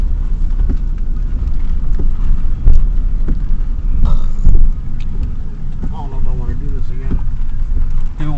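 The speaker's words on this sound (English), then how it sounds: "Shopping in the middle of a thunderstorm." Steady rain in a thunderstorm outside a Wal-Mart, a dense continuous hiss with occasional louder bursts and low rumbles, with voices talking over it.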